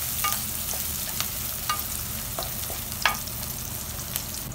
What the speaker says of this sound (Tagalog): inilagay ko na ang ating sibuyas at halu-haluin lang ulit natin hanggang sa maluto ang ating sibuyas